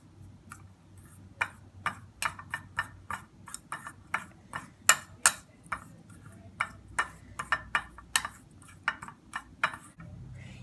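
Turmeric and other ingredients being mixed in a bowl: a series of crisp, irregular clinks and taps of a spoon against the bowl, about twenty strikes over a quiet background, with no talking.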